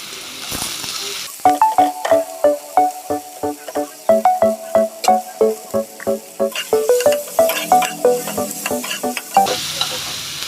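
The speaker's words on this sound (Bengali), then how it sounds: "দেখো বন্ধুরা টমেটোটা আমার ভাজি করা হয়ে গেল তো আমি এখন দিয়ে দিব পেঁয়াজ কুচি" Chopped onion and tomato sizzle in a pan while a spatula scrapes it in a quick, regular rhythm of sharp strokes over a soft frying hiss, close and fairly loud, with no voices.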